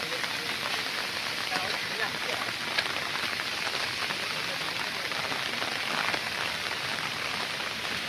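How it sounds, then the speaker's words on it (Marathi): Heavy rain pours steadily near a dam in a thick, even hiss of drops striking surfaces, close and continuous throughout. "आज भरपूर पाऊस पडतोय"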